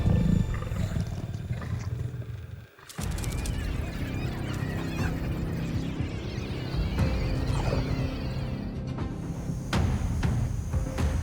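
A lion lets out deep, rumbling roars that are loud and close, continuing with growls after a brief break, while other wild animal sounds are in the mix.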